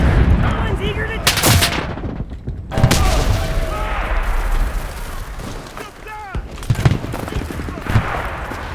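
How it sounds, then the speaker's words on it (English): Mortar blasts and gunfire in the video game Enlisted, with repeated sharp booms and crackling shots that overlap in a dense, chaotic battle. The noise is loud and continuous, and a voice speaks over it. "they got a mortar team up on the hill"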